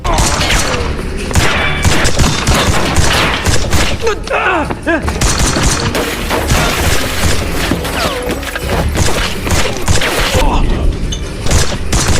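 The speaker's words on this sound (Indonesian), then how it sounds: "tembakan pun kembali terjadi" Chaotic loud gunfire with booms and thuds, bursts overlapping a dense noisy background, with voices mixed in throughout.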